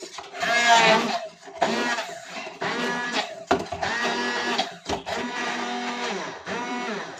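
A kitchen blender whirs through artichoke pulp in several short loud bursts with brief pauses between them, its motor whine shifting as the mixture thickens.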